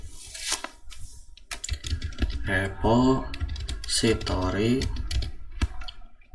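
Typing on a computer keyboard, with clusters of quick clicky keystrokes throughout, mixed with brief bursts of other sound.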